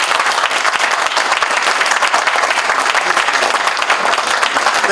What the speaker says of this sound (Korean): 여러분들 격려와 함성으로 네 크게 축하의 박수 보내주시기 바라겠습니다